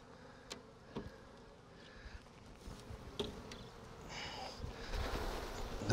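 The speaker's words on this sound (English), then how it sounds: "The bees are coming up the sides of the hive body here." Honey bees buzzing in an open hive body during a hive inspection, a soft, continuous hum with individual bees droning close by and occasional handling clicks, growing louder toward the end.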